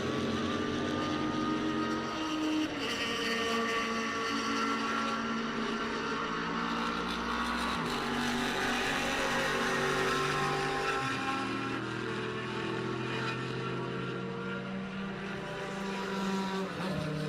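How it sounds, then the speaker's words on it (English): A Chevron B16 race car running on the Daytona banking during a classic 24-hour race, its engine a continuous loud drone with shifting harmonics across the whole stretch, no voices. "Great sights and sounds of the Chevron B16 on the banking here at Daytona."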